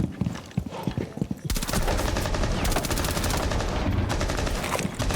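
Rapid automatic gunfire in the video game Rainbow Six Siege, a few scattered shots followed by a dense, sustained burst of loud firing with some brief pauses, no voices.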